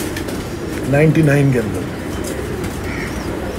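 Domestic pigeons kept by a Karachi pigeon fancier coo in a short, throaty burst of a few soft rolling calls, heard close by while someone talks over them.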